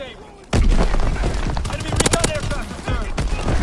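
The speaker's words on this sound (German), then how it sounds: "Alles explodiert!" Loud, booming explosions and gunfire in the World War II shooter Call of Duty WWII, bursting in suddenly and rumbling on with dense crackling blasts, a voice talking underneath.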